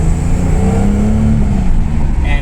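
Datsun 240Z sports car with upgraded Bilstein dampers driving along with a steady, loud engine drone and low exhaust rumble throughout, no speech.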